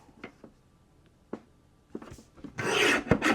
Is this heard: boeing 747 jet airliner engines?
no